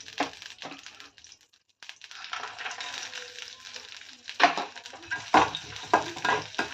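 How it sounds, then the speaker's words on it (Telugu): Dry fruits fried in ghee in a pan, cashews and almonds stirred with soft scraping and a light sizzle, close and fairly quiet with uneven bursts of stirring. "గసగసాలు ఫ్రై అయిపోయినాక 1 టేబుల్ స్పూన్ నెయ్యి వేసుకోవాలి. డ్రై ఫ్రూట్స్ ఫ్రై చేసుకోవాలి."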